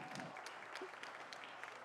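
Audience at a sponsor event cheering and applauding for the Ryan team, a steady burst of clapping and scattered whoops throughout, moderately distant.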